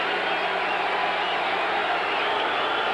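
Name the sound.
basketball arena crowd, Boston Garden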